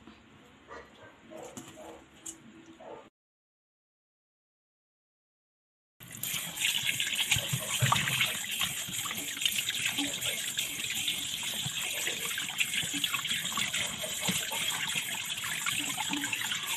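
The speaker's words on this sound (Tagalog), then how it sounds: "huhugasan natin siya uli." Tap water running over tilapia fish being rinsed in a kitchen sink, a loud continuous splashing gush after a short quieter stretch and a silent gap.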